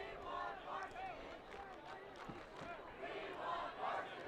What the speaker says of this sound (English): crowd chanting from Monarch right now